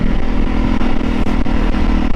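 Jawa BS4 motorcycle with a modified exhaust, a loud close throbbing engine note with steady low pulsing and slight throttle surges, heard alone without talk.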